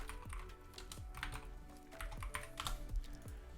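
Rapid typing on a computer keyboard while creating a new Python file, a steady run of close, crisp key clicks with no talking.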